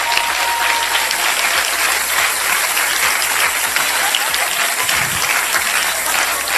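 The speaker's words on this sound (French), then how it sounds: "Vous méritez les acclamations." Loud, sustained applause from a church congregation during a sermon, dense and even throughout with no voices over it.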